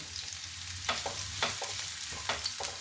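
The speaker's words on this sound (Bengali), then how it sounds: "এবার এক এক করে পরপর সমস্ত সবজিগুলোকে আমি ফ্রাই করব, নরম হওয়ার মতো ফ্রাই করব" Carrots and other vegetables fry in a wok with a steady close sizzle, broken by several scraping stirs of a spatula at an uneven rhythm.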